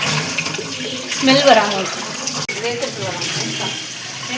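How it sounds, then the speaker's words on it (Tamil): Raw chicken being rinsed and swished in water in a kitchen, a steady running, splashing wash throughout with a person talking over it. "இப்போ சிக்கனை வந்து நல்லா அலசி எடுத்தாச்சு."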